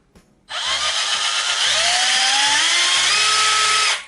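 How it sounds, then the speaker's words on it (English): Black+Decker 18V BCD700S cordless combi drill motor whirring steadily for several seconds, a loud continuous whine with a pitch that climbs slightly as it spins, alone with no talking. "Very comfortable drill to use. Trigger switch here."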